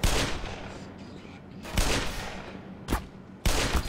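Gunfire from the video game Black Mesa, several sharp bursts of shots with brief gaps between them, heard at moderate level with no voice in this stretch.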